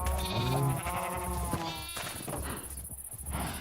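Several sheep in a Minecraft farm built with the Create mod bleat loudly and close, overlapping calls crowding the first seconds before fainter bleats continue with no talk.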